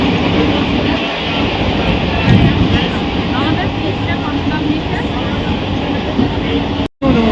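Steady, loud rumble and rattle of a suburban passenger train running on the Bandel line near Shyamnagar station in West Bengal. The noise is continuous and close, with a brief dropout near the end and some voices in the background.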